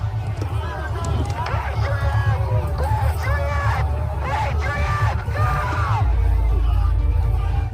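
A large crowd yells and whoops as it surges past toppled bike racks toward a second set of gates, a dense roar of shouting voices with rumbling movement underneath, loud and steady.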